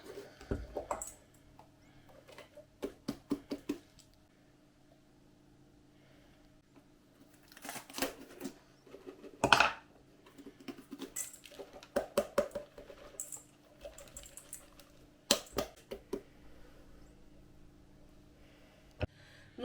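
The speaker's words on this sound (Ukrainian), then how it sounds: "просто ножичком відрізаємо, видаляємо ось так хвостик і насіннячко" A kitchen knife cuts through a bell pepper to remove its stem and seeds, producing sparse, crisp snaps and scraping clicks in irregular bursts with quiet pauses between.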